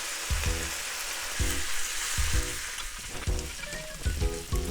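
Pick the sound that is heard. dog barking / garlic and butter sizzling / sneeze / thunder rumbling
garlic and butter sizzling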